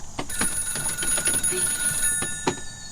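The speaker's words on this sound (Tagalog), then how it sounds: "Adaw mawawag iti telepono." A telephone bell rings in a steady repeating trill, fairly close and clear, with no talking over it.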